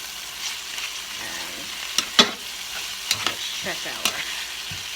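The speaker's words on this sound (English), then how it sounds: "Just let that saute a little bit without the cover." Italian sausage sizzles steadily in olive oil in an uncovered pan, a constant close frying crackle broken by a few louder pops and utensil clicks, with brief quiet speech over it.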